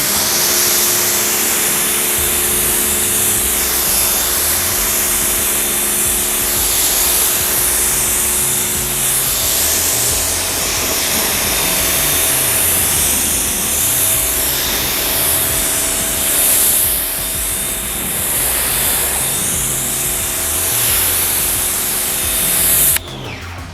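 A pressure washer rinses foaming car-wash soap off a car. Its loud, continuous hissing spray runs without a break for over twenty seconds, and a steady motor hum sits underneath.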